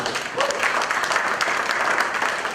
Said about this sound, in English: So I would like you guys to give yourself a round of applause.